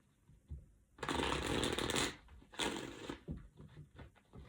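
A deck of playing cards being shuffled up close, with two distinct riffle bursts about a second apart followed by softer handling; no talking.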